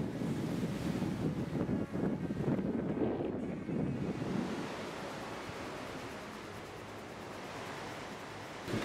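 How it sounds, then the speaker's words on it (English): Ocean waves wash softly onto the shore at a quiet, secluded spot, a continuous low surf with gusts of wind buffeting the microphone and no voices. "All you hear is the ocean."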